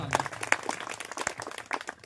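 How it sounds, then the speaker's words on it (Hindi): Scattered audience clapping at an education centre honour ceremony, a short patchy burst of hand claps with uneven individual strikes rather than a full ovation. "चलिए एक बार इनके लिए जोरदार तालियां"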